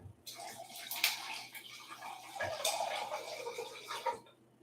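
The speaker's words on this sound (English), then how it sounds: "And I got my jug of spring water over here." Spring water poured from a jug, a steady splashing, gurgling stream lasting about four seconds, close and fairly loud, with no talking.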